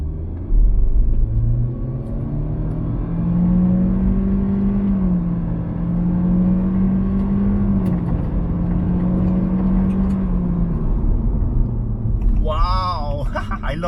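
Honda Civic RS CVT accelerating hard in sport mode, a loud steady engine drone rising gradually in pitch over about twelve seconds, with a voice speaking over the end.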